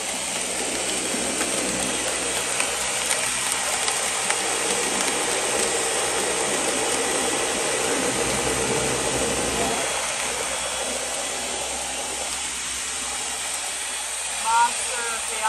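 A high-powered 1,000-watt blender making a smoothie roars continuously at full speed, a dense harsh whir that barely changes throughout, with no voices.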